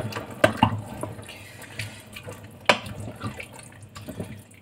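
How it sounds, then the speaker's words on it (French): Water splashes and trickles into a cooking pot in short, faint bursts, with sharp clinks and drips spread across a quiet kitchen background. "Je vais remettre un peu d'eau parce qu'il n'y a pas assez d'eau."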